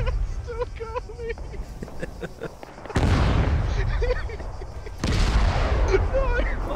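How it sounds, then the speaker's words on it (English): Detonations in the military shooter ArmA 3: two heavy explosions hit at intervals, each a loud broadband blast with a long rumbling tail, while agitated voices talk over the chaos between and during the booms. "something else just detonated off to the fucking right"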